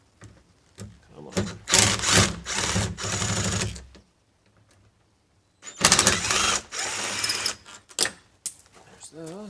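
Screws are driven out of a door deadbolt and knob with a powered driver, two loud close whirring bursts of a few seconds each separated by a quiet pause, with a voice at the end.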